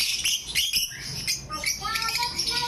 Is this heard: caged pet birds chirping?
yes